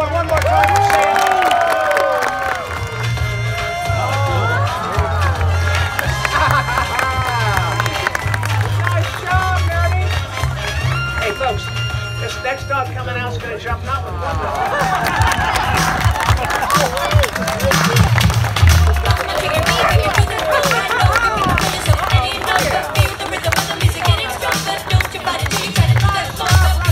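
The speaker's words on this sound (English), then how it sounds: "get that applause going one more time for Sam." Audience at a dog tricks show in Texas cheering and applauding, a sustained loud crowd roar with clapping that swells in the second half, an announcer's voice amplified over it.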